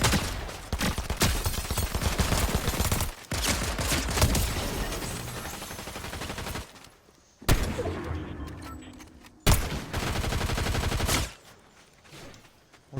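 Dense bursts of gunfire in a building-mode battle video game, with rapid repeated shots and booming volleys in loud stretches broken by brief silent gaps.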